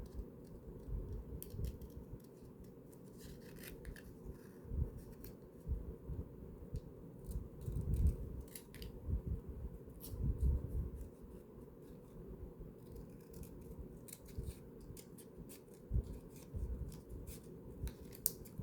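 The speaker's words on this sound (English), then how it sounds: "Let's cut around it." Scissors cut around a paper shape for a decorated composition notebook, a steady run of soft, close snipping and rustling, fairly quiet, with no talking.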